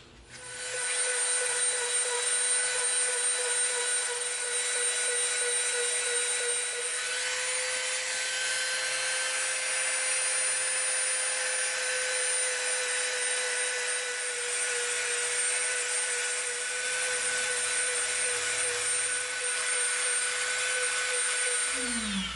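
A rotary tool fitted with a smooth sanding bit shapes and cleans up EVA foam for a broiler's cleaver prop, giving a steady, continuous high whine with a constant hum that runs alone for the whole stretch.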